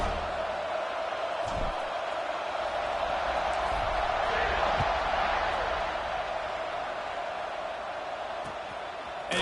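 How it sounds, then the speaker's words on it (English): Stadium crowd in an American football video game buzzes with a steady, dense roar after a score, continuous and fairly loud with a few faint thumps, no talk. "this crowd is buzzing after that last score"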